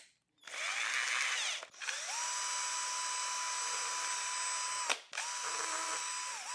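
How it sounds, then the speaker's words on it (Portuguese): A power drill with a 3 mm bit bores a pilot hole in wood, running in three close, loud bursts: a short first run, a long steady whine, then a brief final run after a quick pause. "você pode fazer um furo guia. Vamos usar uma broca de 3 milímetros."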